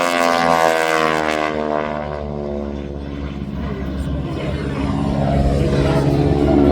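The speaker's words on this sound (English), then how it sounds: "That is the propeller. The propeller is spinning so fast. The propeller tips go supersonic." A propeller-driven airplane at the 2024 Central Coast Airfest air show in Santa Maria, California, its propeller tips spinning supersonic, makes a loud, buzzing drone whose pitch slides downward as it passes.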